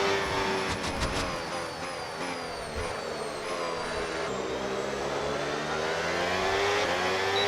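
A Formula 1 car in the F1 26 racing video game screams past other cars on the first lap, its high engine whine rising and falling through gear changes with other cars droning around it.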